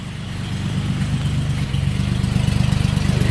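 A 1947 Chevrolet engine idles up close in a low, even rumble whose pulsing grows more distinct toward the end, with no talking.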